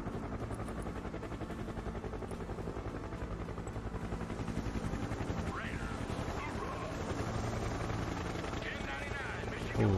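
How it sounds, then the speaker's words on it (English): Helicopter rotor in the multiplayer war game Broken Arrow, a steady, fast chopping thrum that stays loud and close throughout, with someone talking over it and faint gunfire in the mix. "Ooh, helicopter coming in."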